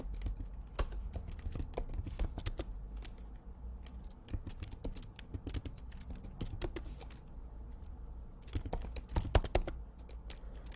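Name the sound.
typing a crypto wallet recovery phrase on a computer keyboard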